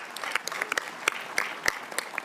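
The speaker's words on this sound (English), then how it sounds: "How about a round of applause for my fellow Alaskans?" Brief, scattered clapping from an audience at a congressional veterans' affairs hearing, a sparse patter of hands heard at a moderate distance for about two seconds.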